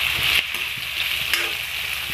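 Green chillies frying in a pan for egg chow mein, a loud steady sizzle and crackle of hot oil close by, with a few soft stirring scrapes and no voices.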